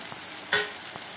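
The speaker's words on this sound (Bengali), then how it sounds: "একটু বেশি পরিমাণে আদা রসুন বাটা দিয়ে এটাকে খুব ভালো করে নাড়াচাড়া করে নিতে হবে" Ginger-garlic paste sizzling in an oily pan as it is stirred, a steady frying hiss broken by one sharp scraping stir near the middle and a couple of softer ones.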